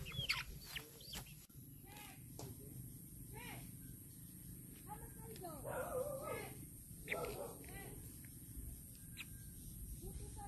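A chicken trapped in a bird snare on a farm clucks repeatedly, soft close-up calls in short bursts over a quiet outdoor background.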